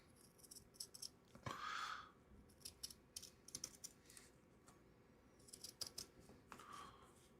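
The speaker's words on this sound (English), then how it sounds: "I am cutting this with the scissors" Scissors snipping through fabric at a quilting session, a few short crunchy cuts in separate bursts with soft clicks and rustles between, close and fairly quiet.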